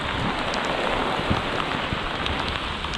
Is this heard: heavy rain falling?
yes